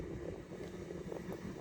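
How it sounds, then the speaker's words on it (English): Wind buffets and rumbles continuously across the microphone, a low, steady roar with no other sounds standing out. "It's just been crazy windy."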